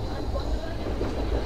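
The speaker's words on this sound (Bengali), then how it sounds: "আমাদের এই সম্বলেশ্বরী এক্সপ্রেস কিন্তু সেই টানেলের মধ্যে দিয়ে যাবে" The Samaleswari Express (18006, Jagdalpur to Howrah) rumbles through a tunnel with a dense, steady low roar that thumps louder at the end, with faint voices inside the carriage.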